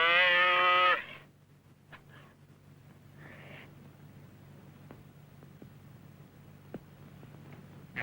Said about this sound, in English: Sounds like a calf blowing.